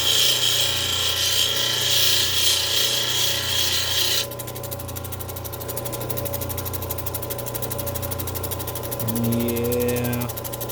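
A piece of fire agate is held against a spinning 1200 grit polishing wheel. It makes a steady, close, gritty rubbing whir over the motor's hum, and the tone shifts partway through as the pressure changes.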